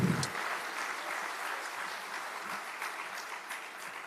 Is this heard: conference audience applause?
yes